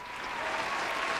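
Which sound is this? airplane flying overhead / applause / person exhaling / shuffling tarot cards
applause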